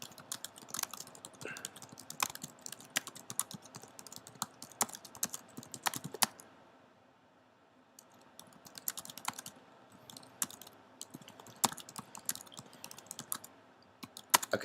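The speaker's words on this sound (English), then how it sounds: "I just want to type here. So I could just type anything." Computer keyboard typing at close range, quick bursts of soft clicking keystrokes broken by a short pause in the middle.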